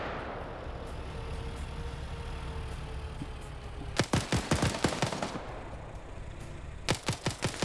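Bursts of heavy automatic cannon fire from a BTR armored vehicle in a video game: a rapid volley of loud, sharp shots, then a pause and a second shorter burst, over a steady low ambient rumble.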